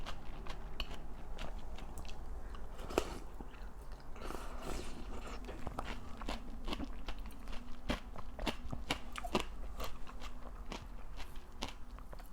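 Close-up biting and chewing of cold bibim noodles, with repeated sharp crunchy bites and wet chewing sounds in an irregular rhythm over a steady low background hum, no talking.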